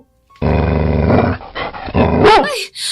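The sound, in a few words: dog growling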